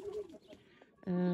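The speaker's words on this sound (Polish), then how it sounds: "Jest kolejny gołąb." A racing pigeon returning to its loft after a 250 km competition flight gives a soft low coo, followed by a louder, steadier tonal sound at the end, heard close against quiet outdoor background.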